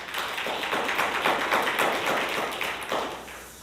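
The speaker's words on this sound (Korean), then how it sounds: "박수로 하나님께 영광 돌립니다." A church congregation claps together after a Sunday morning prayer, a dense, steady patter of many hands that stays loud and even throughout, then eases slightly at the end.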